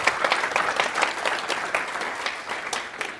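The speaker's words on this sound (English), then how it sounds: "Give a nice round of applause." An audience claps steadily in a room after a demonstration, a dense patter of many hands at moderate loudness with no talk over it.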